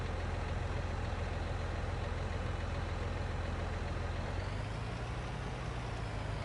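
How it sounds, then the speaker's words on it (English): Continuous low tractor engine idle rumbling steadily in Farming Simulator 19, with a slight shift in pitch toward the end; no voices. "They've definitely changed the idling sound as well."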